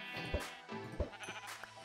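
Two short sheep bleats from the Minecraft video game, close and clear, with soft game sounds between them and no talking.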